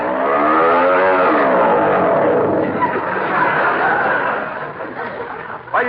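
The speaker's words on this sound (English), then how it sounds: "This engine is too noisy." A loud motor roars as a sound effect in a 1948 radio comedy, with a rising and falling revving drone that runs steadily throughout and eases slightly near the end, while voices chatter over it.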